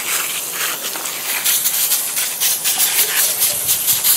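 Coil cleaner sprayed onto a split system condenser coil outdoors, a steady close hiss with pulsing bursts of spray lasting throughout, no voices.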